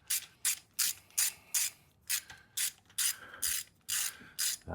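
A ratchet turning a 13 millimeter socket on an engine bolt of a 1968 VW radical custom, giving crisp clicking bursts in a steady, repeated rhythm, close and fairly quiet with no talk.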